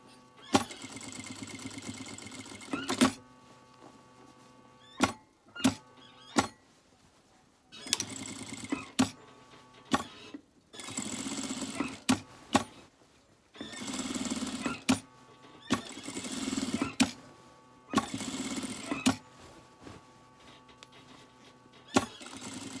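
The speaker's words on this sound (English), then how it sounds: "As you sew, so stretch it and sew." A sewing machine topstitches around a trouser waistband in repeated bursts of fast, close mechanical whirring and needle chatter, each run stopping abruptly with sharp clicks and brief quiet gaps between them.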